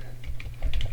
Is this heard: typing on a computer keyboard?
yes